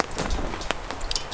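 Rainwater dripping and splashing into a stainless steel bucket at a tipi campsite, a steady patter of close, fairly quiet drops with a few brighter pings, no voices.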